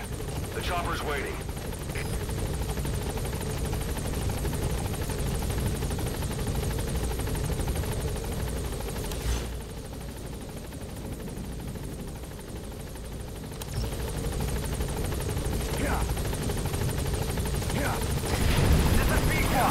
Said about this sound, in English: Head for the RV. The chopper's waiting.